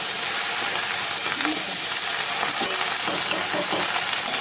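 Okra frying in hot oil after turmeric and salt are added, giving a steady, dense sizzle with scattered crackles and small pops throughout, close and fairly loud, with no talking.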